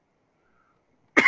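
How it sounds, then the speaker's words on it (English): After near silence, one short, sharp throat-clearing cough sounds close by at the very end. "I'm coming up with a slight cough."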